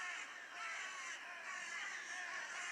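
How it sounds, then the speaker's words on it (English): Crows caw during corvid control hunting outdoors, a few faint, distant calls over a steady background hiss. "It's controlling Corvids"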